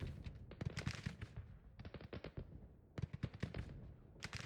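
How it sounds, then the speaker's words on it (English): Cannon and artillery fire in Grand Tactician: The Civil War rolls on in dense, overlapping volleys of booms and crackles, moderately distant, with brief pauses between barrages. "I'm gonna order my cannons to do counter battery fire."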